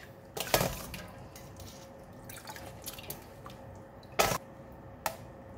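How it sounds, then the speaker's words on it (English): Blanched broccoli and beef for a stir fry are lifted from ice water into a strainer, with a few sharp splashing clatters and drips over quieter wet handling sounds, close by. "I'm going to remove them from the cold water and put in the strainer."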